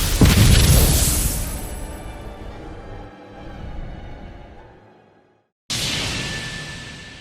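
An explosion attack in the video game Tales of Arise booms loudly at the start, then a long rumbling, hissing tail fades over several seconds before another burst cuts in abruptly.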